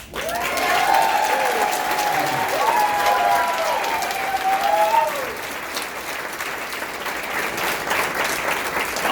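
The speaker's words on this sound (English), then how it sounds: "Let's give them a good Culinary 226 applause." A crowd at a Culinary Union 226 town hall applauds loudly and steadily for several seconds, with whoops and cheers over the clapping, before it slowly thins out.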